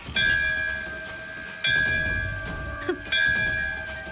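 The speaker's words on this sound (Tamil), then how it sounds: "கோயில் மணி அடிச்சது?" A temple bell rings three times at a steady pace, each strike bright and ringing with a long shimmering decay, loud and close.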